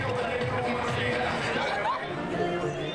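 A sparse crowd at a small baseball stadium during a Blue Jays versus Cleveland game gives off a steady murmur of chatter and scattered voices at middle distance, with no single cheer rising above the babble.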